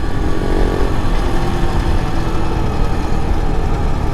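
Continuous, close engine drone from an Ice Bear Honda CT70 clone mini motorcycle while riding, a steady low buzzing putter with no breaks and no talking.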